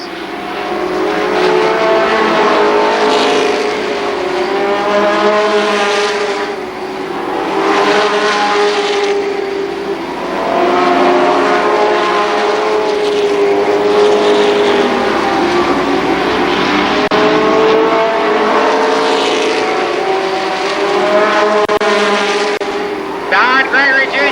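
Midget race cars roar around the Columbus Motor Speedway, loud engines rising and falling in repeated waves as they pass, with an announcer talking over the racing throughout.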